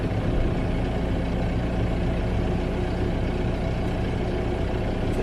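A tractor engine runs steadily in four-wheel drive while box blading tree stumps, a loud, continuous low rumble with no talk.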